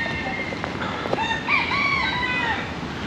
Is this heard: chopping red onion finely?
no